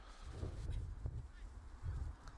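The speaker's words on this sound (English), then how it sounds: "It's a couple of birds fighting against the wind, find their way into our field of play." Birds honk faintly a few times while flying against the wind over a soccer field at sunset, their calls thin and distant beneath steady wind and open-air ambience.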